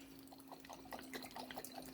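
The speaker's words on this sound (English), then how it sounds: "I'm going to add 2 cups of hot water right to that mixture" Hot water poured into a pot of chili mixture on the stove, a faint trickling and splashing with soft drips against a steady low hum.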